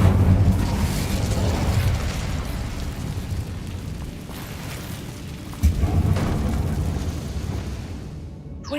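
An Incendio fire spell cast in the Hogwarts Legacy video game, a loud, roaring burst of flame that rumbles steadily, with a second sharp whoosh partway through before fading.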